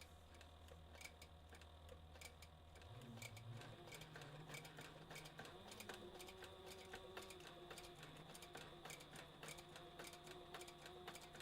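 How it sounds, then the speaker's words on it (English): A sewing machine stitches a rigger's belt, running steadily with a fast, even mechanical ticking throughout, close and fairly quiet, with the motor note shifting slightly partway through. "I'm going to give it another stitch over."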